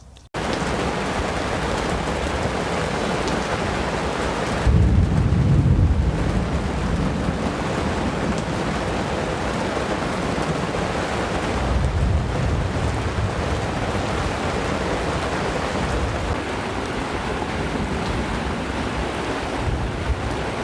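Heavy rain pours steadily during an outdoor winter thunderstorm on an expedition, a loud dense roar with wind buffeting the microphone and low rumbles swelling at intervals, no voices.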